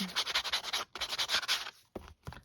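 Sandpaper rubs the paper edges of a journal page in quick back-and-forth strokes, close and soft, in two bursts of scratchy rhythmic rasping with short pauses and a final brief stroke.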